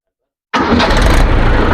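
An Escort tractor engine, a newer 335 Josh model, cranks and catches abruptly after silence, settling into a loud, steady close-up running rumble.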